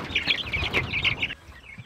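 Excited farmyard ducks and geese calling together in a dense, continuous burst of honks and quacks, close and lively, which cuts off abruptly near the end.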